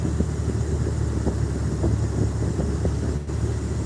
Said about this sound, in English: There goes one of their trucks now.